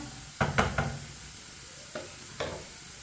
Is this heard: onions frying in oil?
yes